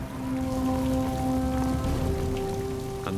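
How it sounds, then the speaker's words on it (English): Rain falls at night on a mountain in New Zealand's Southern Alps as a steady, close, dense patter, with a low sustained tone droning beneath it. "As night falls again, rain shrouds the mountain."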